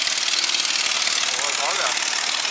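An old engine running steadily near a barge, a dense continuous mechanical drone with no breaks, close and fairly loud, with a voice speaking over it.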